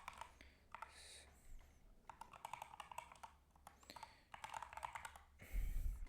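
New computer keyboard clacking under steady bursts of typing with short pauses, close and fairly quiet, ending with a soft low rumble.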